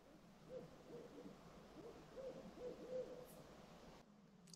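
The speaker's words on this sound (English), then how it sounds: "Can you hear the owl?" Owl hooting at night in an Ontario forest during a bikepacking trip, a series of soft, low hoots repeated several times at moderate distance over a quiet background hiss.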